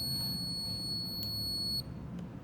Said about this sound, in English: When you hear this warning tone